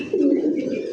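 A female chocolate-coloured pigeon gives a low, throaty coo that swells in after a short pause and holds steady for about a second, close and clear with no talking.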